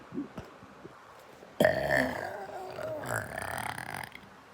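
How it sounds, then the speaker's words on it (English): A person produces a fake burp, a sudden loud croaking belch that stretches for a couple of seconds after a few quiet breaths and mouth noises, heard close up. "Listen to it, like when I fake burp."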